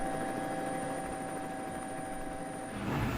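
A helicopter drones steadily overhead, a constant rotor and engine hum following rally cars on a WRC stage, with a louder rush of a passing car near the end.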